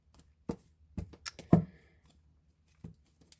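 Soft, irregular taps and riffles of tarot cards being shuffled, a handful of quick light clicks close by in an otherwise quiet room.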